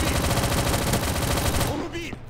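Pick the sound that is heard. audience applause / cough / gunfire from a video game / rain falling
gunfire from a video game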